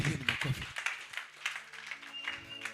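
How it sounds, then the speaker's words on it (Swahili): A church congregation at a Sunday service claps in a loose, uneven patter of hand claps, with a few sharper claps up front and sustained music tones under them. "Wapigieni makofi."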